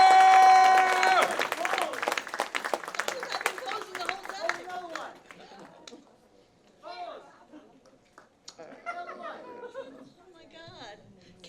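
Brief, thin applause from an awards show audience opens the moment, fading quickly into scattered chatter and chuckles with a voice talking over the room.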